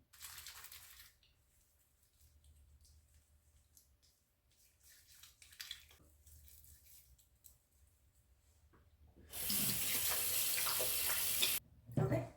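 Running water from a tap splashes during face washing with cleanser, heard as faint wet rubbing and dabbing before a loud steady gush of water pours for about two seconds near the end.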